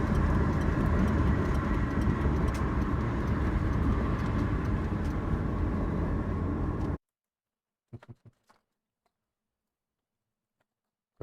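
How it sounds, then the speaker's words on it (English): A road-trip traffic sound effect plays steadily with a dense, continuous rush of passing cars and engine noise, then cuts off abruptly into near silence with a few faint clicks. "He can hear other cars rushing by."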